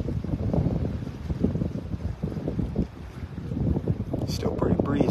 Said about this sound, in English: I'm trying to get out of the wind here.